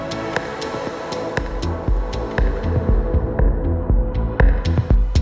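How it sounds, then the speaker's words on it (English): A DJ mix plays through the reverb effect on a Traktor Kontrol S2 MK3 controller's mixer, with throbbing beats and sharp percussive hits trailing into washed-out tails, loud and continuous. "The second one is reverb."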